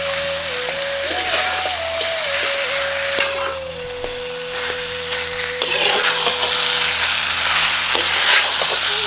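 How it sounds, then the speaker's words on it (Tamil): Fried chicken pieces being stirred with masala and yogurt in a pan, a continuous loud sizzle with scraping stir strokes close up, and a steady hum running underneath. "சேர்த்துக்கிட்ட கறியை மசாலாவோட நல்லா பெரட்டி விட்டுட்டு 4 தேக்கரண்டி தயிரையும் சேர்த்து நல்லா கலக்கி விட்டுருவோம்"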